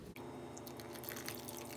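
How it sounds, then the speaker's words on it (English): Evaporated milk poured straight from a can into homemade pumpkin pie filling in a kitchen: a soft, steady liquid trickle and glug that runs quietly and continuously. "we're just going to pour in the whole cup without measuring it"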